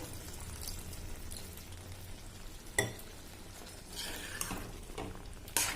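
Eggplant masala curry with tamarind juice stirred in a pan, a soft steady scrape and gentle bubbling with a few sharper clinks of the spoon against the pan, close and fairly quiet, no talking.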